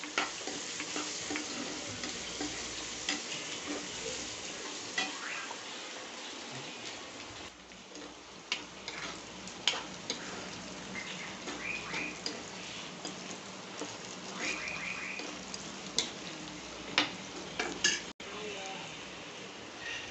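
Potato fry with turmeric and salt being stirred in a hot pan: continuous crackling sizzle of oil with scattered sharp clicks and scrapes of the spoon, fairly quiet and close, with no talking.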